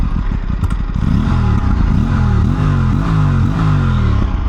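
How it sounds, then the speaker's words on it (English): Aprilia Tuono 457 parallel-twin motorcycle with a crossplane sound, revved repeatedly up and down at close range, with a loud, throaty engine rising and falling in quick bursts and no talk over it. "We'll rev it up here."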